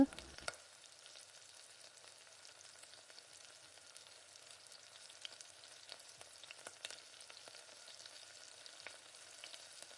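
Steady sizzling and crackling as rice is stirred into masala for chicken biryani, with faint scraping of stirring throughout; continuous, moderately quiet, no voices.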